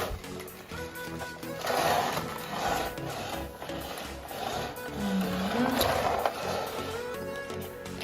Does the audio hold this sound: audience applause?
no